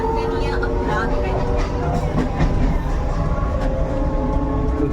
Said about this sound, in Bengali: এই যে এইমাত্র ট্রেন ছাড়লো